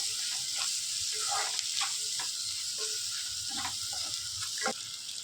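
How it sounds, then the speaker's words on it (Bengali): Shrimp and jackfruit seeds frying in a pan for a home-style shrimp and taro stolon dish, giving a steady close sizzle with occasional stirring scrapes and no speech. "এবার সব কিছু ভালো করে ভেজে নেব"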